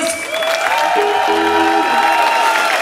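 Crowd applause at a concert in Moravské Budějovice, a loud continuous wash of clapping with a voice speaking over it.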